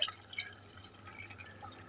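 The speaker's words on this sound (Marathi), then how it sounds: "तुम्हाला जेवढं पातळ हवंय त्यानुसार तुम्ही पाणी टाकू शकता" Water trickles into a drumstick (moringa pod) curry in a steady, quiet pour with a fine, splashy, dripping texture and no voices.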